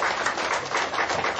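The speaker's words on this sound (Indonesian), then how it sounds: "Yang pertama kita berikan aplaus untuk Bapak Yosef" An audience applauds steadily, with dense, even clapping that stays fairly loud from start to finish and no voices over it.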